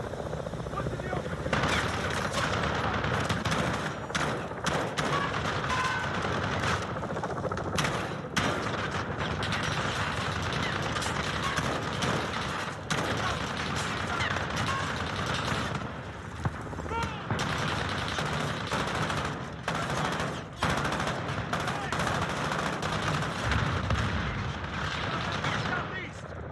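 An enemy machine gun rattles in sustained bursts during a Modern Warfare battle, mixed with other gunfire and battlefield rumble, while soldiers shout orders over the din.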